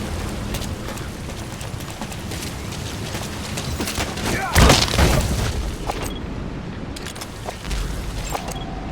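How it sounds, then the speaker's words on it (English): A C4 charge detonating in a video game: a single deep boom about halfway through, rising out of a busy game ambience of crackle and rumble before settling back. "Secure the area before you detonate the C4."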